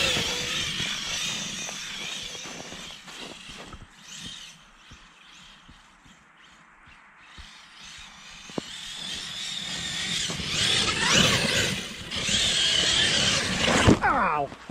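An Arrma Kraton V3 RC car with tires poorly suited to snow plays in a snowy driveway, its electric motor whining and surging in loud bursts that build toward the end, with talk audible in places.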